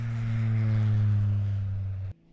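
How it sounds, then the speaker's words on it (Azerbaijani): Electric-motor airplane giving a smooth, steady low hum with a faint high whine, moderately loud and unbroken, stopping suddenly just before the end. "Bu isə elektrik mühərriyi olan təyyarənin səsi."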